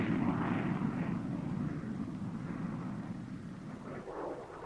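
A-4D Skyhawk jet flying shortly after a catapult launch from a light aircraft carrier, a steady loud roaring drone throughout with no voices.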